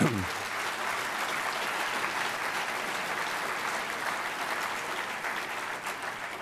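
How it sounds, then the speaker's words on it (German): Steady applause from a large lecture audience fills the whole clip, dense and even, with no break. "Danke für den Applaus."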